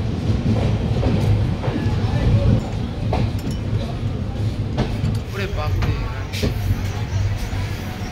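Patna Howrah Jan Shatabdi Express rumbles along from inside a second-class seating coach, a continuous loud rolling roar with faint clinks and background chatter.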